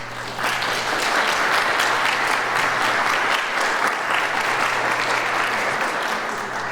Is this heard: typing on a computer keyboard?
no